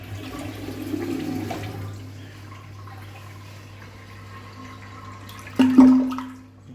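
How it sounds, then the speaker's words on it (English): An American Standard toilet in a Thai bathroom flushes with a sudden loud surge of rushing water near the end, after a quieter stretch of room tone with a steady low hum. "Let's try the flush."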